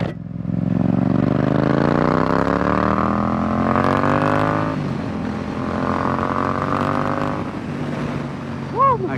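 A 2022 Yamaha MT-07 naked motorcycle accelerates while riding, its engine note rising steadily in pitch through the gears, loud and close, with a brief shift dip midway and a voice-like swell at the end.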